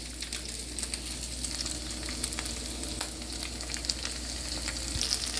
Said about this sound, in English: then we're going to throw in the shrimp with the ginger sauce